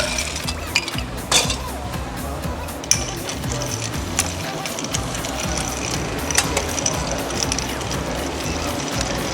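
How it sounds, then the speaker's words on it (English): Ice being stirred in a dry gin martini with grapefruit, made with dry vermouth: a steady, busy clinking and rattling of cubes against the glass that keeps going throughout, close up and fairly loud. "We're gonna ice that up, and we're gonna give it a stir."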